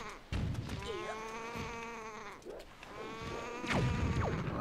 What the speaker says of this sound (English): Why do these birds baa like sheep?